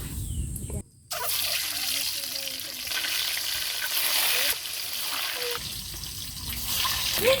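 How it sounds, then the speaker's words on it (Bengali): Eggs fry in oil in a village kitchen with a loud, constant crackling sizzle that drops out for a brief moment early on and then resumes, steady and close. "এখন আমি ডিমগুলো ভেজে নেব"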